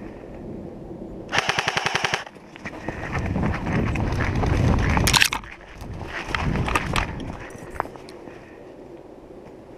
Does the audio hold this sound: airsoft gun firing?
yes